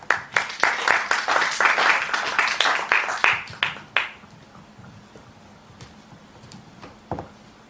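A church congregation at a Sunday service claps in a burst of lively applause lasting about four seconds, then it thins to scattered claps and room murmur.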